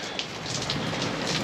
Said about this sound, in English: It is actually raining already now for 3 days, constant.